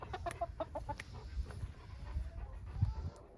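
Backyard chickens cluck softly and intermittently while settling into their coop for the night during evening chores, a quiet, close flock sound with low rustling underneath.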